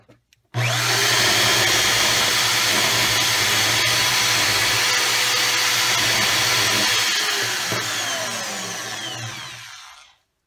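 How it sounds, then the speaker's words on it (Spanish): Electric drill spinning a bolt as a file is held against it, a loud steady motor whine with gritty scraping running about ten seconds before winding down. "aquí ya he puesto el tornillo en el taladro y con la lima la idea es irlo girando y lo vamos limando"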